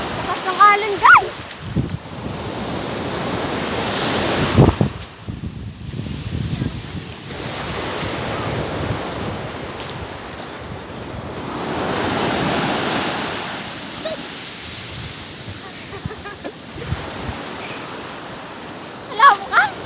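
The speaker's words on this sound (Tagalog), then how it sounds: "Lakas ng alon, guys!" Powerful ocean waves roll and break repeatedly, wind noise rumbling over them, with occasional voices and splashes close by.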